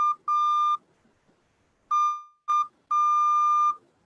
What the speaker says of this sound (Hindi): तो ए फॉर आर्चरी, एक डॉट और एक डैश, ये कुछ ऐसे सुनाई देता है